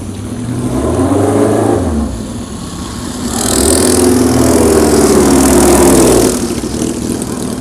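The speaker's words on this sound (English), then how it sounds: "Porsche 904 GTS." A Porsche 904 GTS race car engine at a vintage racing event on the Nürburgring, loud and rough, swelling as it passes close by, fading slightly, then rising again in a second strong surge without any talk.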